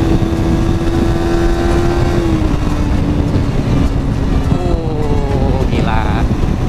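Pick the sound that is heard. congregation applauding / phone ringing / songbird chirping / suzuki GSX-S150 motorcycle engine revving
suzuki GSX-S150 motorcycle engine revving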